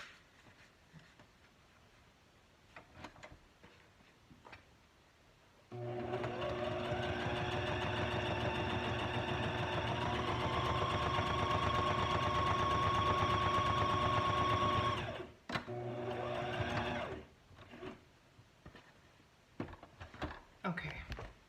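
Sewing machine stitching a paper envelope, a loud, steady, rapid mechanical whir and clatter running about nine seconds, followed by a shorter burst and then quiet handling noises.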